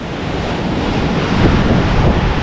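Strong gusting wind of Super Typhoon Uwan roars steadily and loudly against the microphone, a dense unbroken rush that swells slightly toward the end, with no voices.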